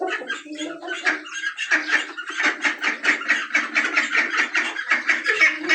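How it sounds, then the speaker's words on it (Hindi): Ducks and chickens in a village coop, making a dense, near run of rapid quacks and squawks that overlap steadily throughout, with no talking. "बाकी देखें डक्स"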